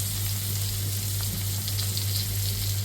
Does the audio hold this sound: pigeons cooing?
no